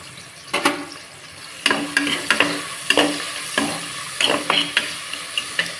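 Onions sizzle in hot oil and ghee while being stirred: a steady frying hiss broken by repeated loud scraping strokes of a spoon against the pan, close and clear.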